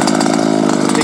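A rebuilt Zenoah 290 two-stroke engine in an RC car runs during break-in with a new head, polished piston and DDM pipe, buzzing loud and steady at close range with a rapid, even pulse.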